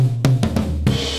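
Drums picked up by the left overhead microphone with no pad during a studio session, bright and crisp, with a few quick sharp hits over a low sustained ring in a brief burst.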